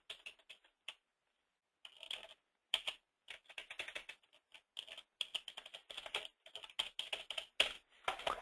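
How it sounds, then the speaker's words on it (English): Fingers type a credit card number on a computer keyboard at a hotel front-office desk: close, crisp key clicks in quick bursts separated by short pauses, with no talking. "I'm going to store Aaron's credit card in here. 290 123 123 123 123."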